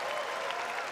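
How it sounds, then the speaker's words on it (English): Sustained applause from a live event audience at a product launch presentation, a dense even wash of clapping filling the whole moment with no speech over it. "Round of applause for Vigi, everybody."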